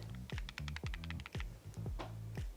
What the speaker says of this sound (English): the little camera panel has something loose inside